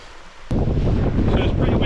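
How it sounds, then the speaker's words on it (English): Strong wind gusting across a Bristol Channel shoreline at night during cod fishing, a loud steady broadband roar buffeting the microphone, starting abruptly after a quieter half-second. "So it's pretty windy tonight"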